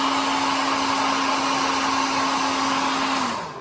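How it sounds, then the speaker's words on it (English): A hairdryer blows continuously with a loud, steady whirring hum, winding down at the very end. "So please excuse the noise of the hairdryer."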